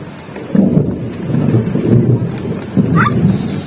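A thunderstorm with rain breaks after intense heat, with a deep, rolling rumble of thunder that swells and recedes over a steady wash of rain, heard fairly close.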